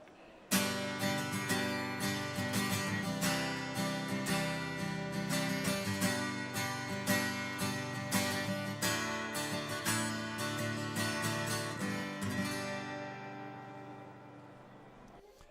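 Strummed acoustic guitar, recorded close up with a DPA microphone, plays continuous chords with quick rhythmic strums, then lets the final chord ring out and fade.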